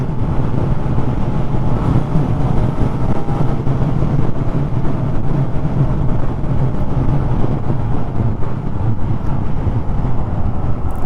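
A Honda car cruising in top gear gives a steady, broadband engine and road drone from inside the cabin, constant and fairly loud with wind noise, no speech over it.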